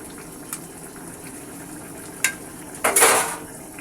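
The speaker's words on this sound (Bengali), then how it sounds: "এবার একটু নেড়ে চেড়ে দিচ্ছি।" A spoon stirs beef liver curry in a pan over a low, steady sizzle, with a couple of brief scraping strokes and one louder burst of stirring near the end.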